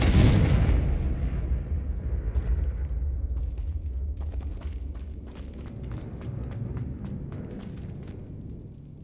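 Confringo fire spell in Hogwarts Legacy going off with a heavy blast at the start, then a long rumbling decay scattered with crackling bursts and small impacts.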